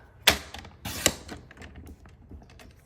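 Paper being cut for handmade card making, two sharp snipping cuts followed by lighter ticking and rustling handling sounds, close and fairly quiet with no speech.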